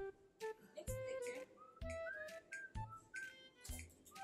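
Someone whistles nearby in short, bright tonal phrases with gliding pitches, broken into several bursts over a few seconds, with quiet low thumps between them and no talk in between.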